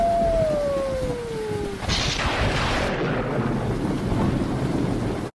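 Rain and thunderstorm in an animated movie: a falling whistle-like tone gives way to a loud rolling thunder crack, then heavy steady rain hiss that cuts off abruptly at the end.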